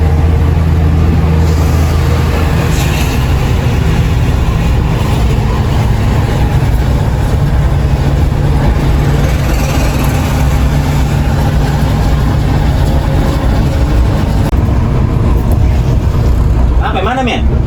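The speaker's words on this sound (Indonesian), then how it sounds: "Ini truk pengangkut motor nih." A truck carrying motorcycles drives on the road between Makassar and Palu in Sulawesi at night; a loud, steady low engine rumble and road roar run continuously throughout.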